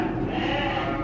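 A sheep bleats in one sustained, wavering call that fills the whole moment, close and fairly loud against a low outdoor rumble.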